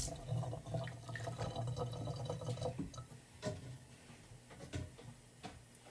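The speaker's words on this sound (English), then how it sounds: "So I'm gonna catch the water in here." Tap water runs and splashes into a container while a meat board is washed in a kitchen sink, a soft, uneven trickling with a few louder splashes and clunks, quiet and close.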